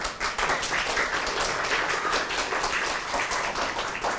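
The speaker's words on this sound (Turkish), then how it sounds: "Arkadaşımız için alkış alalım bir daha." A middle school audience applauds a student during a drama activity, steady dense clapping from many hands sustained close by for several seconds.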